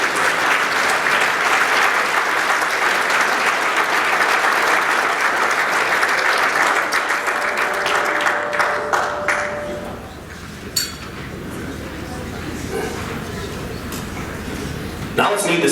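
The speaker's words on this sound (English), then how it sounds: "Please join me in a round of applause for the seniors on the women's volleyball team." Audience applause for senior players of a women's volleyball team at a student athlete luncheon, loud sustained clapping from a room of people for about nine seconds, then fading into quiet murmurs and a brief voice.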